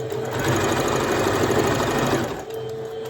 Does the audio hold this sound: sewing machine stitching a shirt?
yes